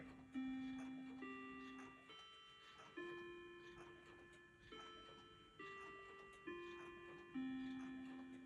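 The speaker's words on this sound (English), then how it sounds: "this is a chiming clock. And this chiming clock is named Seiko. It's a quartz." A Seiko quartz chiming clock sounds a soft, distant melody of about nine sustained bell-like notes, each struck tone ringing and fading before the next.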